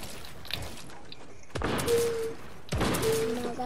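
Gunfire between players in a video game: two sudden bursts of shots, one at about a third of the way in and another near the end, each followed by ringing tones and a noisy tail, with no talk.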